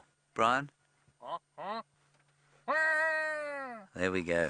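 A man imitates the call of a hadeda ibis: after brief speech, a loud, sustained, nasal braying cry with falling harmonics runs for more than a second, followed by another harsh burst.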